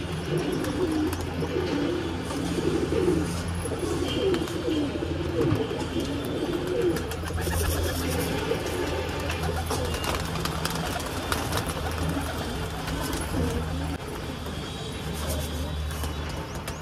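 Pigeons cooing in low, repeated calls through a steady outdoor background, with busy ambient noise and other birds faintly underneath.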